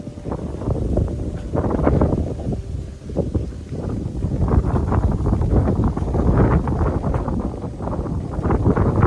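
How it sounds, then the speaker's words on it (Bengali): Strong outdoor wind buffets the microphone in loud, uneven low rumbling gusts that run through the whole stretch, with no voices. "প্রচণ্ড হাওয়া হচ্ছে আজকেও বাইরে"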